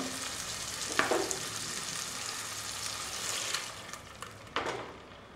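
A thick ground coriander and coconut masala paste for egg curry hits hot oil in a frying pan and sizzles steadily, with a couple of soft splashes and stirring scrapes.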